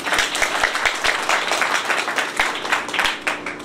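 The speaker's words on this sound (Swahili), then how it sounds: "Pigia watoto makofi." An audience claps for the children at a Nabii Bishop Esther church service, a steady dense burst of applause with sharp individual claps close by, continuing without pause.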